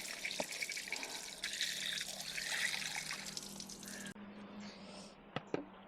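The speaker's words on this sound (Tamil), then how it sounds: "இதிலே கழுவணும்னா தண்ணியெல்லாம் தூசி தண்ணியெல்லாம் கீழே போய்க்கும்." Water pouring and splashing over freshly harvested beans in a perforated pot, a steady trickling rush that suddenly stops, followed by a few faint drips and clinks.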